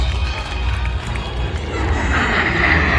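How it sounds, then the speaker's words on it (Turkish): Three Turkish Stars aerobatic jets roar overhead above Trabzon, a steady loud broadband rumble that swells toward the end, with a crowd faintly audible beneath. "Üç uçak birlikte gökyüzünü dermeye başladılar."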